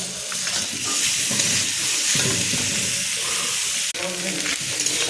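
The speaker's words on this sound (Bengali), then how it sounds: "ভুটিটা ভাজা হয়ে গেছে" Bhuti fries in a wok with ginger, garlic, cumin, black pepper and turmeric, giving a dense close sizzle broken by stirring scrapes and a brief clatter near the end.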